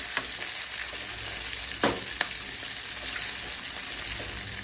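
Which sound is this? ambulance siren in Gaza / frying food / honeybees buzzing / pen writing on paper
frying food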